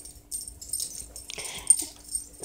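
A dog playing with a piece of food gives soft snuffling whimpers and small yips, close and intermittent, with light rustling between sounds and no one talking.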